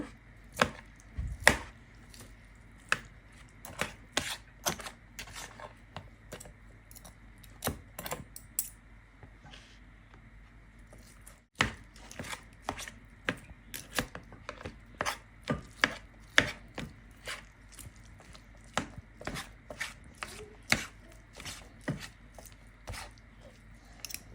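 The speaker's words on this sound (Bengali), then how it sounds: "চিকেনটা এখন আমি চামচ দিয়ে ছিঁড়ে নিব" Cooked chicken being shredded with a spoon, with a steady run of sharp clicks and taps of metal on a hard surface. The strokes come in quick irregular bursts, broken by a brief pause midway, and sound close and fairly crisp.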